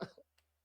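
A single sharp cough bursts out up close, then trails into a softer throat-clearing catch and a faint final hitch before going quiet.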